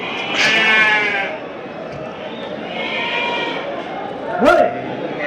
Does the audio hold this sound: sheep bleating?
yes